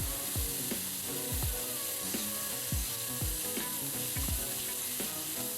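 Carrots and beans are stir-fried in a pan for a Kerala mixed vegetable thoran, a steady sizzle under repeated rhythmic scraping strokes of a spatula, close and even.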